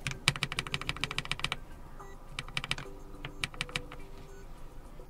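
Close, crisp typing on a LOFREE Flow Lite Bluetooth keyboard with PBT keycaps, a fast dense flurry of key clacks that breaks into sparser, irregular presses, with no speech.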